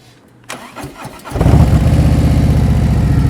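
A motorcycle engine starts up and settles into a loud, steady close-range running note as the bike sets off during slow-speed riding practice.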